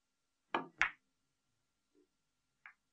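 A three-cushion billiards cue ball shot played cushion first without side spin: two sharp, close wooden clacks in quick succession, then a faint low tap and a brief click in an otherwise quiet room.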